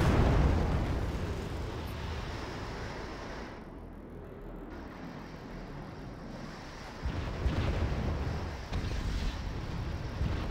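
Rocket artillery barrage in the strategy game Wargame Red Dragon, a dense continuous rumble of explosions and bursts that thins briefly mid-clip before swelling again with heavier impacts, with no talking.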